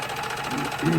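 A serger overlocks the side seams of an apron, making a steady, close mechanical whir with a fast, even pulse that swells slightly near the end, while a person talks.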